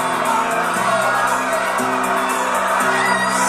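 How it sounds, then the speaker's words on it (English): A studio audience at The Price is Right game show cheers and whoops loudly and without a break, a dense wall of crowd noise with excited shouts rising through it. "I think the crowd likes that one."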